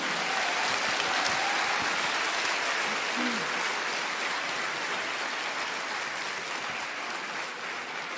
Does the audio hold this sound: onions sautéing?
no